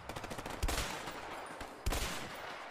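Rifle fire in the video game A Way Out: a quick run of light pops, then two sharper, heavier shots about a second apart, all fairly faint, with no voices.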